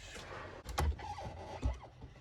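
A vintage Bultaco Alpina 350 motorcycle is kicked over twice, each kick a short mechanical thump and clank against quiet background, with no engine catching.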